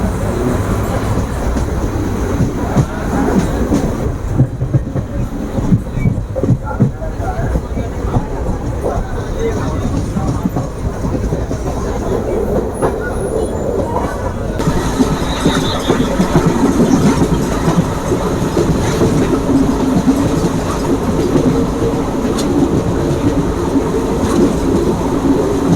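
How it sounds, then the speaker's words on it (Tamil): An express train from Trichy to Karaikal rolls steadily along the rails, with a continuous low rumble and wheel noise that lasts throughout and grows a little louder and denser in the second half. "இந்த திருச்சியிலேருந்து காரைக்கால் போகிற இந்த எக்ஸ்பிரஸ் ட்ரெயினுக்கு"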